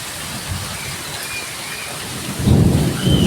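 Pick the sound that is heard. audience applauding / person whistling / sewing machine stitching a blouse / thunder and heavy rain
thunder and heavy rain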